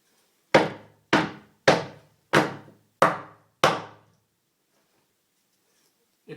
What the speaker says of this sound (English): the exciting moment is if I'll be able to knock this thing out of the actual casing here